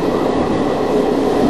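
A train rumbles steadily at a station in Puglia, Italy, a loud, close, continuous rolling roar of rail cars with no speech.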